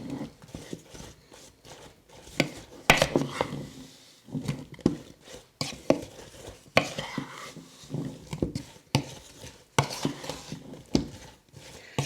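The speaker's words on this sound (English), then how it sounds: "You can see the cinnamon and sugar going onto the apples. You need to mix up stuff from the bottom as well." Sliced apples tossed with cinnamon and sugar for a sour cream apple pie, irregular clattering scoops and knocks of a utensil against the bowl, lifting fruit from the bottom, close and busy.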